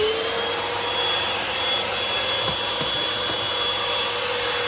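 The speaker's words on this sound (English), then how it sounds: "You vacuum your car first." Vacuum cleaner running inside a car, cleaning the seats and floor: a loud, continuous roaring whoosh with a steady high whine and occasional small knocks, with no talking.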